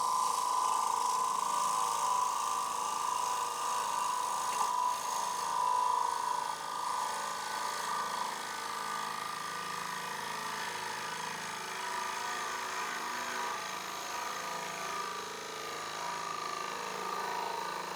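Woodturning gouge roughing out a green wood bowl on a lathe, giving a continuous buzzing, scraping cut that runs steadily throughout, close and fairly quiet.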